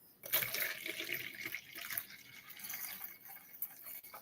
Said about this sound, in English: let me pour a shot of whiskey